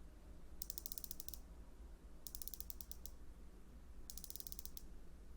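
The bezel of a Rolex Submariner 126613 two-tone watch being turned, three quick bursts of fine, crisp ratcheting clicks, close and quiet, evenly spaced.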